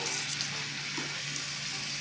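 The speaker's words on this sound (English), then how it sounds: "You hear that sizzle?" A hot pan sizzles steadily in a kitchen, a continuous soft hiss of frying with no talking.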